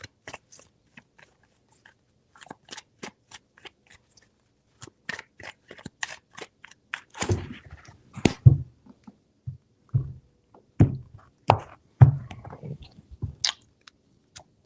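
Tarot cards are shuffled by hand in a series of crisp riffles and snaps, quiet at first and then louder, busier bursts, close by with no talking.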